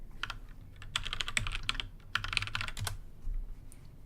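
Rapid keyboard typing of a password on a computer keyboard during a login, a close, steady run of clicky keystrokes in bursts with short pauses and no speech.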